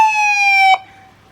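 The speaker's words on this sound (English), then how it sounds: "he's gonna do the siren" A police car siren sounds in a single loud, clear wail with a slowly falling pitch, then cuts off abruptly, leaving a faint quiet background.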